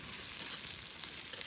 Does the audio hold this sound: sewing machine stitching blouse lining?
no